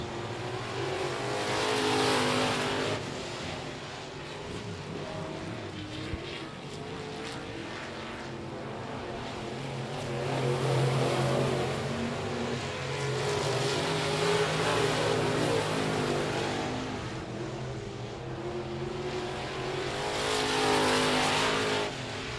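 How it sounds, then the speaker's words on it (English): Race cars circling the oval at I-37 Speedway during a short-track race program, a continuous engine roar that swells and fades as cars pass, heard from trackside with no voices. "Marcus Meklicek flying around the track. It's a 2-car shootout."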